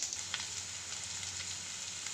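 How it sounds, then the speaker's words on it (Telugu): Okra frying in a pan for a masala curry, a steady close sizzle and crackle of hot oil with small pops, continuous and alone without any talk. "ఇలా బెండకాయలు వేయిపోయినాయి చూడండి ఫ్రెండ్స్"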